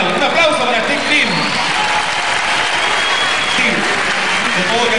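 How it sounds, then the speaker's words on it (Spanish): Loud audience applause for Steve Green during a gift-giving visit in Chile, continuous clapping from a large crowd filling the whole stretch, with voices talking and calling out over it. "Un aplauso para Steve Green"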